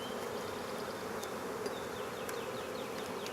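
Honeybees buzz in an open hive during a spring inspection, a dense, continuous hum holding steady at close range with no talking.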